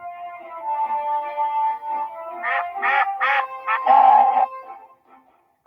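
Ducks on a lake quacking in a run of several loud, close, rapid calls with short gaps, ending briefly quiet.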